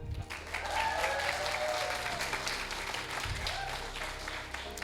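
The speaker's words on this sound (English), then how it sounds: "Can we just give a big round of applause for the gorgeous wedding and the incredibly tasty food?" Wedding guests applaud at a celebration dinner, a full, continuous round of clapping from a room of people with some chatter and cheers mixed in.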